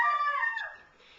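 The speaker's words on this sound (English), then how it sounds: "Please excuse my bored dog." Bored dog howling into a drawn-out whimper, a single fairly faint, wavering cry that falls in pitch and trails off, heard alone indoors.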